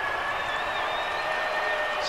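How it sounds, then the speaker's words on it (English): A stadium crowd roars and cheers just after the home team scores to go 2-0 in a soccer match between the San Diego Sockers and Dynamo Kyiv, a dense, continuous wall of noise with no breaks. "The crowd going wild"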